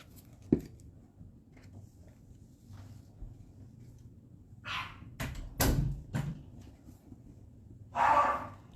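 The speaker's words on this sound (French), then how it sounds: "mes chiens qui jappent" Dogs bark indoors a few times, short sharp barks spread out after a quiet stretch, one early and a cluster later, heard over faint background noise during card making.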